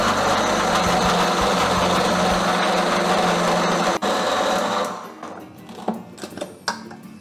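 A mixer grinder whirs loudly and steadily for about five seconds while grinding ingredients into a paste, then shuts off, leaving a few quiet knocks and clinks.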